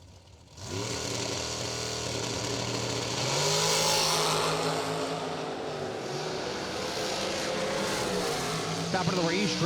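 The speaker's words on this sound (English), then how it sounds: "Sims the AME chassis dragster." An AME chassis dragster roars down a drag strip at a racing event, a loud sustained engine howl rising in pitch as it accelerates, with an announcer talking over it.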